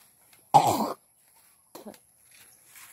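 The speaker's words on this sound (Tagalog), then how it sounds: "Sorry kay ubo." A person coughs once, close and sharp, and then gives a second, weaker cough or throat-clear a moment later in an otherwise quiet room.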